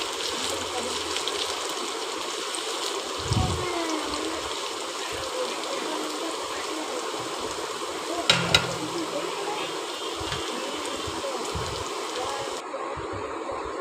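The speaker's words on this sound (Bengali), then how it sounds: "এবার ভালোভাবে আমি ভেজে নেব" Potatoes frying in hot oil until crisp, a steady broad sizzle running throughout with a couple of brief clatters of stirring utensils.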